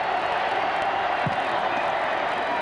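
A record crowd fills the Orange Bowl stadium at the 1995 Nebraska–Miami college football game, a steady distant roar of cheering under a broadcast announcer's voice.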